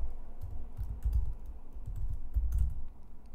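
Keys clatter on a computer keyboard in close, quick bursts of typing with a final heavier press, as for entering a command for installing a JavaScript module, with no talking.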